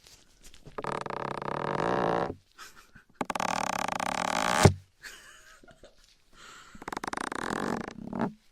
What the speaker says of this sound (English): It sounds like a fart.